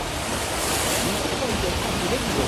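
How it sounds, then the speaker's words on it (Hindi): Water surges and churns in a rooftop swimming pool shaken by an earthquake in Bangkok, heard as a steady, loud, roaring wash of splashing and rushing noise throughout, with no clear voices. "स्विमिंग पूल में खौफनाक लहरें उठ रही हैं"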